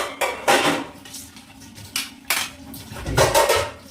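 Pots and dishes clatter and scrape in a kitchen sink while being scrubbed, with several loud metallic knocks and clinks in bursts close by, and no voice.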